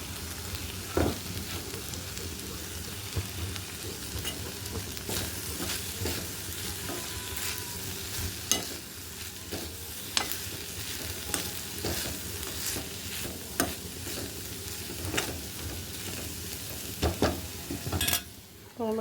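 Cut green beans fry in oil with freshly grated coconut, quiet and fairly distant: a low sizzle runs under repeated scraping stirs of a spoon against the pan, with occasional sharper clinks.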